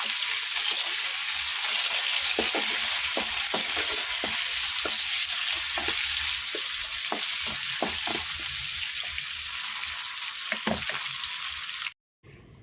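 Drumsticks and raw mango fry in a pan with a steady, close sizzling hiss, broken by scattered light taps of a spoon stirring, before cutting off abruptly at the end.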